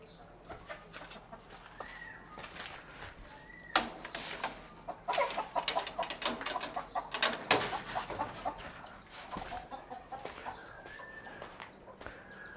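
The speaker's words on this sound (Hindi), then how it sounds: "ये मेरी मुर्गी जो है ये बहुत ही बेचारी सबसे जो है पैकिंग ऑर्डर में बिल्कुल सबसे नीचे है" Backyard hen at the bottom of the pecking order clucking in scattered short bursts, joined by other birds calling around her, with quieter spells between the louder clusters.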